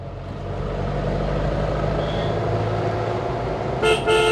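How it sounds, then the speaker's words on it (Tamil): A steady engine rumble from a car climbing a hairpin mountain road, then two quick, loud car horn honks right at the end. "திருப்பத்தில் ஹார்ன் அடிச்சுக்கலாம்."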